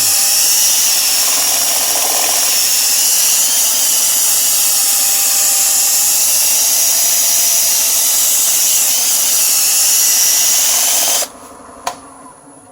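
Steady high-pitched whirring and hiss of sandpaper against a natural edge wooden bowl spinning on a lathe, loud and continuous, cutting off abruptly near the end with a brief knock.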